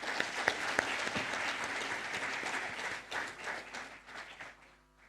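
A room full of people applauds to welcome a guest speaker at a conference inauguration, with dense steady clapping and a few sharp claps early on, tapering off toward the end.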